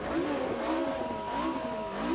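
A race car engine in the sim game Automobilista 2 drones loudly and continuously, its pitch rising and falling as the car revs through the clip.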